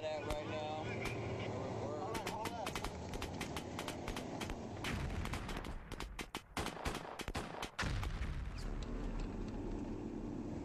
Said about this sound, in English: We're getting shot at right now.